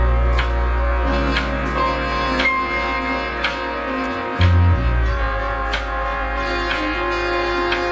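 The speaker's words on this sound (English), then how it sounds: "What I did with this sample was I pitched it down to get it in key and I stretched it a bit" A music sample pitched down into key and stretched in time, playing as a dense, continuous layered track with a deep bass line and steady rhythmic hits, full and loud, with no voices.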